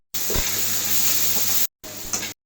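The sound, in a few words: potatoes frying in a pan with cumin and onion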